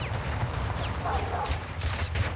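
Gunfire in the Modern Warfare II video game, a dense steady stream of shots heard at a distance throughout, with excited voices talking over the top.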